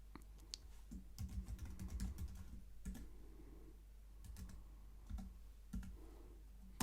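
Password keys tapped on a computer keyboard, quiet bursts of clicks in short irregular runs with pauses between, close and faint over a steady low hum.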